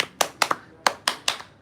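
Tepuk sakinah, a patterned hand-clapping routine at an Indonesian wedding, played as six sharp distinct claps in an uneven rhythm with short pauses between them, close and alone.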